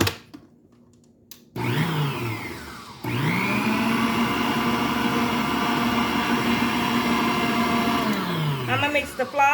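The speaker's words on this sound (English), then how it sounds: "I'm going to mix the flour in" An electric hand mixer beats flour into sugar cookie dough in a home kitchen: it starts briefly, stops, then hums and whirs steadily and loudly for several seconds before winding down, with no talking over it.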